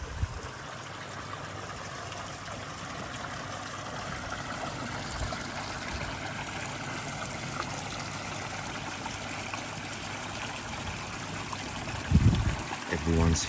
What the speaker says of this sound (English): Look at the flow coming from this pond.